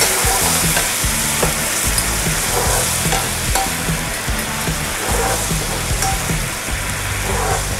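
Masala sizzling in a pan while Maggi noodles are cooked, a dense continuous frying hiss with scattered pops and soft stirring scrapes, close and steady without talk.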